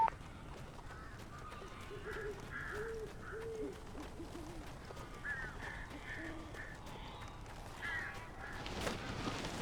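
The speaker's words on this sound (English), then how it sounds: "These birds are weird." Crows caw in the Alan Wake video game, with several harsh, repeated calls spread across a steady eerie ambient bed and no voices.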